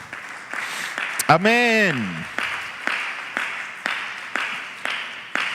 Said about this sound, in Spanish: Denle ese aplauso a nuestro Dios.